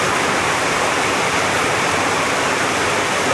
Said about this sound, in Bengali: বৃষ্টির শব্দ শুনলে বুঝতে পারতেছেন যে কি পরিমাণ বৃষ্টি